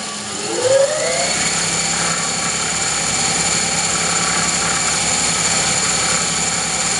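Small electric motor inside a rotary encoder test rig spinning steadily at 2000 RPM, a continuous whine with high tonal overtones and a brief pitch rise at the start, then a constant hum throughout.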